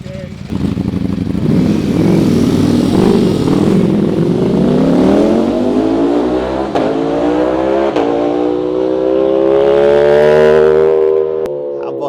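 A 2020 Ducati Panigale V4S with a performance exhaust kit rides out at a launch in Bahrain, its loud engine rising steadily in pitch as it accelerates away, the rasping drone sustained for several seconds before cutting off abruptly.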